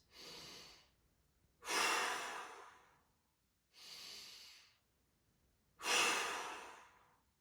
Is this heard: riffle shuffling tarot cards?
no